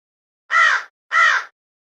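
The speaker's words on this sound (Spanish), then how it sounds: "Cuervo." A crow caws twice in quick succession, two harsh, close calls separated by a brief pause against silence.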